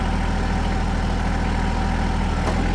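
A compact tractor engine runs steadily to power a log splitter, a loud, constant low rumble with a throbbing hum and no pauses or voices.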